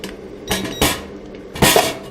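The oven is pulled out of a mini 3D vacuum sublimation machine, producing a few sharp metallic clanks and scrapes of metal parts knocking together, close and separated by short pauses.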